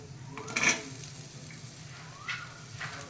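Sesame seeds fry in a pan for a ginger pickle, giving a faint, close crackle broken by a few brief scraping stirs over roughly three seconds, with no voices.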